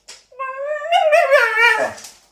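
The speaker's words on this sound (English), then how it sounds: "So hard living with dogs." A dog lets out a single drawn-out whimpering whine, rising and wavering in pitch before breaking off, close and clear in a quiet room.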